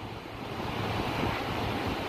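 Steady roar of sea waves and gusting wind on a busy beach in Itanhaém, on the southern coast of São Paulo, under an overcast sky, constant and close with rumbling wind noise on the microphone.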